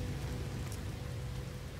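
Steady acid rain falls on an alien planet in No Man's Sky, a continuous dense hiss with a low rumbling undertone and no breaks, fairly soft and even throughout.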